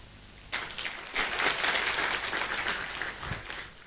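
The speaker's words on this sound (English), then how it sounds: "Let us all applaud her." A conference audience at a real estate stakeholders' meeting bursts into clapping, starting suddenly and swelling into a sustained, fairly close round of applause that carries to the end.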